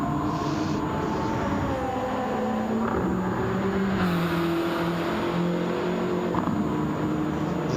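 Volkswagen GTI of roughly 240 to 280 horsepower driving in Gran Turismo 7 on the Nurburgring, a steady engine drone with rising and falling pitch as it shifts and accelerates, continuous and fairly loud with no talk.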